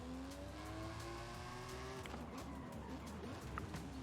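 A car engine in Forza Horizon 5 as it drives through a forest, a steady rising engine tone that drops away partway through, followed by rough rumbling and faint tyre noise, heard at low volume with no talk.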